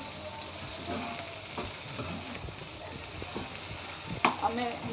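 Cabbage and potato filling for vegetable spring rolls sizzles in a hot pan while being stirred, with steady frying hiss and occasional scraping clicks of a spoon, close up and moderately loud.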